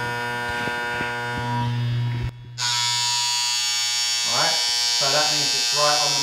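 Andis Master hair clippers running after tuning, a loud steady electric buzz that drops out briefly mid-way then resumes, with a person talking over the second half.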